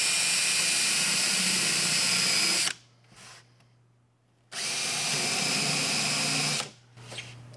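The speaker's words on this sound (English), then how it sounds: "So I'm just going to pre-drill those." A power drill pre-drills fastener holes with a countersink for a beam on a boat's crash bulkhead, two loud sustained whirring bursts separated by a short quiet pause, with a brief spin-down at the end.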